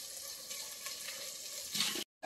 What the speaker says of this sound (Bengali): আচ্ছা নাড়াচাড়া করতে থাকো।